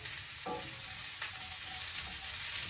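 Cauliflower, used as a potato substitute for a breakfast frittata, frying in hot oil with a steady close sizzle and a sharper burst as pieces drop into the pan.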